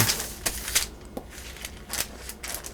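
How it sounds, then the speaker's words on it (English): A few crisp snips of scissors cutting through soft pastry dough for a savory Easter pie, spaced irregularly at close range, with no voices. "Use a pair of scissors now."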